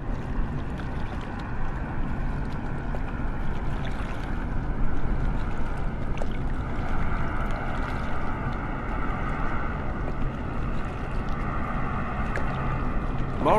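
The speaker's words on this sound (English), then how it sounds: "when a plane is passing from far away, you not only hear the jarring sound of the engine" A steady plane engine drone in Microsoft Flight Simulator 2020 hums continuously at a moderate distance, its tone washed out and reverberant, echoing off surrounding mountains.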